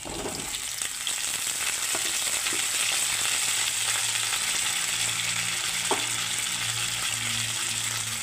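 Potato pieces fry in hot oil in a pan, a loud, dense and continuous sizzle heard up close, with faint scrapes of stirring and no speech.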